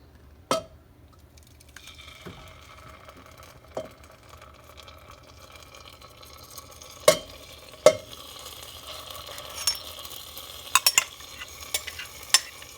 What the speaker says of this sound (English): Now I'm gonna add the sauce and I'm going to strain it.